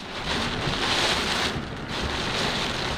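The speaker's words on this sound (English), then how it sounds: "Sydney Airport lashed by winds, dumped on by rain." Strong storm wind roars steadily against the microphone at Sydney Airport, mixed with a dense hiss of heavy rain, loud and continuous with no voices.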